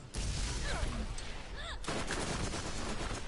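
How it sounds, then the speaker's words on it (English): SMG gunfire in the Borderlands video game, a dense rapid stream of shots with whizzing projectile effects, loud and continuous, with a short break partway through. "I'll shoot it with the SMG because that does a ton of damage"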